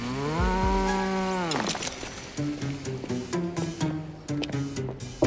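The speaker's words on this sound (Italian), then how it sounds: "La vostra mucca è qui?" A cartoon cow gives one long, loud, tonal moo in an animated episode, followed by talking voices and light clinking effects.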